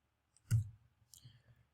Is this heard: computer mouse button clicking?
yes